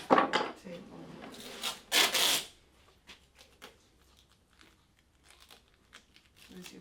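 Tape is pulled and pressed onto a wooden drawer front in a community woodworking shed, giving loud ripping and crinkling bursts up close, then softer scattered rubbing and handling noises.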